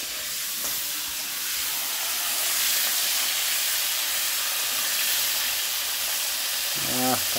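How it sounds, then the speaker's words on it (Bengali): Crab frying in a wok for crab kosha hisses and sizzles steadily with a broad, even roar, ending with a brief harsh scrape or clatter. "কাঁকড়া চলে গেল কড়াইতে।"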